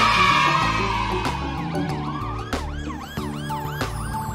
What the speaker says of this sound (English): A new ambulance quickly hit the road.